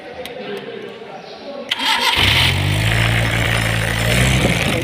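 A car engine with a mistimed distributor starts at about two seconds and runs loudly and roughly, a steady low rumble after a few faint clicks in a workshop setting.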